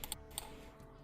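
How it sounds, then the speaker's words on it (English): A few quick keystrokes tap on a computer keyboard, close and quiet, over faint background hiss. "Keyboard ASMR, I hope it sounds okay."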